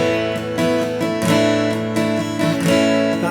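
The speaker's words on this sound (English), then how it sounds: "That's our strumming pattern." Acoustic guitar strumming the pattern for a song, steady rhythmic down-and-up strokes ringing out full and close, with no voice over it.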